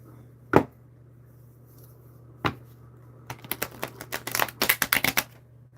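A tarot card deck gets shuffled by hand, beginning with two isolated card slaps and then a quick run of crisp, clicking riffles, close and fairly loud with no talking.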